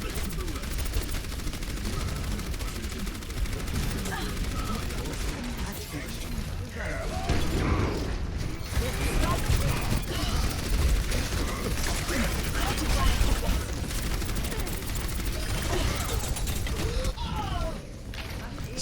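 Bastion's sustained automatic gunfire in the video game Overwatch, a dense rattling stream of rapid shots mixed with clanking mechanical sounds and other game effects, continuing loudly for most of the stretch.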